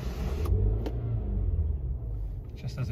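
A Mini Cooper S engine revs up with a rising, throaty surge, the rumble swelling and then settling back near the listener.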